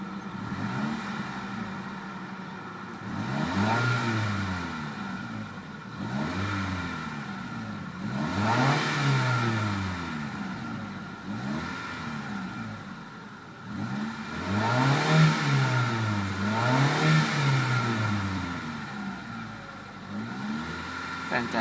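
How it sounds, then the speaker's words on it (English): A 1999 Mitsubishi Lancer GLXI engine revs repeatedly under the throttle, each rise swelling and falling back in a steady rhythm of about six blips, loud and close with no speech. "Let's go ahead and check out the sound of this engine."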